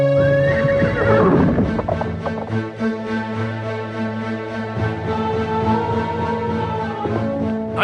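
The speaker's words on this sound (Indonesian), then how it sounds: "Ayo kudaku, larilah dengan cepat." A horse in a dramatized chase lets out a loud, close whinny. Its hooves then thud steadily beneath sustained musical tones.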